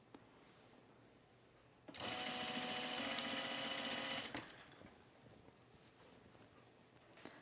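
A home sewing machine runs in one steady, loud, fast-stitching burst of about two and a half seconds, set between quiet stretches while a shirt is sewn and the bobbin thread runs low.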